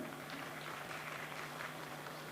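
A crowd at a political rally in India claps in a dense, steady wash of applause that holds at an even loudness throughout.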